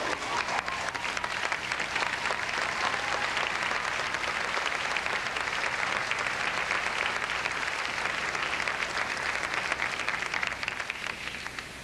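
A graduation ceremony crowd applauding two graduates' parents as they rise, a sustained even roar of many hands clapping that continues steadily throughout, moderately distant in a large hall.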